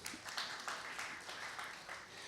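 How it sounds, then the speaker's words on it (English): An audience applauding at a book launch, steady moderate clapping from a crowd that sounds slightly distant and continues evenly throughout. "Please join me in applauding Dr."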